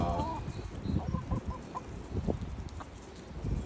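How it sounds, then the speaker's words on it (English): A tame lavender Orpington chicken clucking close by, a run of short, soft clucks and low murmurs in an uneven rhythm over a constant outdoor background. "this is a very tame chicken."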